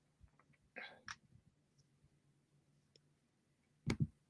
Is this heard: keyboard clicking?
yes